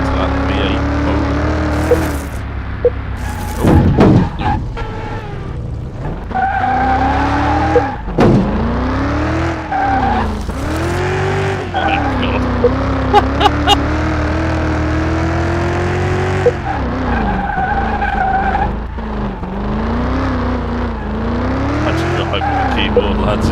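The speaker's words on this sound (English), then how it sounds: "Listen to that V8 motor." A V8 car in Car Mechanic Simulator, driven hard on a test track, with loud revving engine sweeps rising and falling through gear changes, bursts of tire squeal, and someone talking over it at times.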